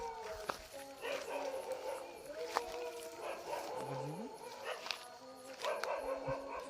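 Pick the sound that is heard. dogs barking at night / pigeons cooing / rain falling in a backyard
dogs barking at night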